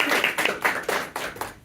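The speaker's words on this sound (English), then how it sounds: "round of applause" Applause after a design talk on product development, a small group clapping in uneven bursts that rise and thin out over a short stretch, moderately close, with no voices.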